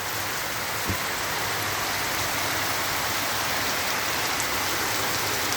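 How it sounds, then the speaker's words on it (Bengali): Heavy rain pours down around a rooftop in a dense, steady, loud hiss that never lets up, with no voices. "সাদা হয়ে রয়েছে এত জোরে বৃষ্টি হচ্ছে"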